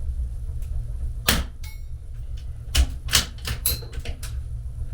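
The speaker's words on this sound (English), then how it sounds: "The only sound is really that striker or that firing pin falling. And then you can hear the steel downrange." A suppressed .22 rimfire firearm fires with only a faint mechanical click of the firing pin falling, followed by several sharp metallic clanks of a steel target being struck downrange, spaced irregularly over a low steady outdoor background.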